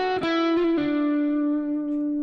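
An electric guitar plays a neo soul lick with chromatic notes, a few quick picked notes sliding into a long sustained tone, clean and close with a touch of effects coloring the sound.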